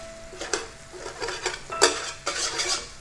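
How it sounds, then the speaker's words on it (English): A utensil stirs coconut sugar melting with light soy sauce in a pan for homemade orange chicken, producing close, repeated scraping and clinking strokes against the pan with a soft sizzle beneath. "Keep stirring until coconut sugar melted."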